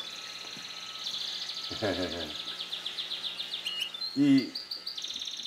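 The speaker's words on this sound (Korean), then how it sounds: "새소리가 이쁘다" Pet canaries sing in short bright chirping trills and warbles close by in a quiet room, phrases rising and falling in bursts, while a person murmurs briefly in the background.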